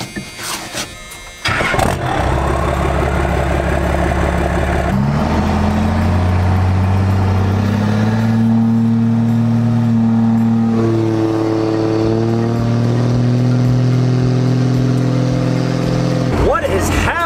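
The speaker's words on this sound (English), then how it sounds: "The nice thing about this truck is I can do a startup without having to leave the cab." A diesel truck engine cranks and fires up, then idles loudly and revs up and down in steady rising and falling surges, close and continuous.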